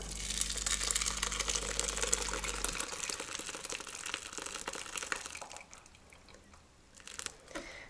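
Hot red currant jam is strained through a sieve, giving soft wet squelching and crinkly rustling, with a kitchen hum fading out partway; close, quiet and without talk.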